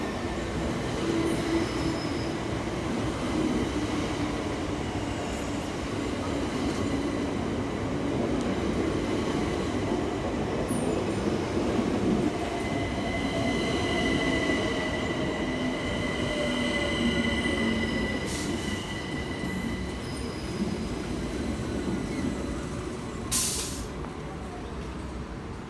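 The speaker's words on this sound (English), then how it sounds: "Next arriving into the station 11 minutes late is 376011 and 376012, working the 1204 Southeastern service from Hayes through to London Charing Cross" Two coupled Southeastern Class 376 electric trains roll into a station on the Hayes line, a sustained rumble with squealing wheels and faint clicks, loud and close throughout.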